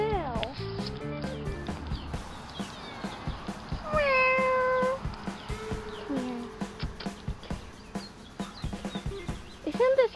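A cat meows several times, one long drawn-out meow standing out in the middle, with a person talking quietly in between.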